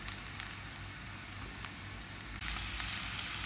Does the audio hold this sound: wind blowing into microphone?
no